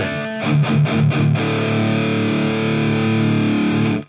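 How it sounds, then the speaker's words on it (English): A heavily distorted electric guitar through an Audio Assault Shibalba amp simulator plays a few chugging palm-muted notes, then rings out a sustained high-gain chord in an 80s metal and thrash style that cuts off abruptly. "all the high gain tones, it's definitely got that sort of 80s metal slash thrash slash even crossover sound"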